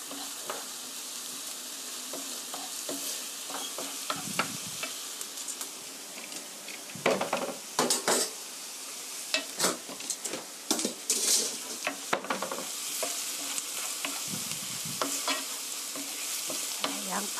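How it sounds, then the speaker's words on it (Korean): Onions sauté in a pan for a cream-sauce fusilli dish, giving a steady close sizzle broken by repeated scraping stirs of a utensil against the pan. "양파가 노릇노릇하게 볶아지고 있습니다."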